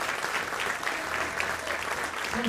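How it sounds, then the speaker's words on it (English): A fundraising concert audience claps steadily and fairly quietly in a short, even burst of applause, with no voices over it. "Thank you, applause for that."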